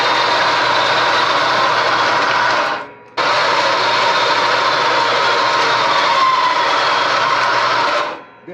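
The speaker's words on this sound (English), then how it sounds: "So we've got it set up here in the bandsaw. Let's go ahead and see if we can get these things cut off." A bandsaw cuts through scrap metal pieces in a workshop, giving two long, loud, steady grinding runs separated by a brief pause, each fading down as the blade finishes.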